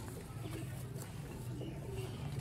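A Sialkoti pigeon coos in low, repeated throaty purrs, close and fairly faint, over a noisy background.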